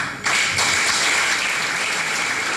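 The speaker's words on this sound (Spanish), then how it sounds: "Aplausos." An audience at a Latin American political speech bursts into applause, a sudden loud, dense clapping that starts sharply and holds steady for a couple of seconds with a faint sustained tone beneath it.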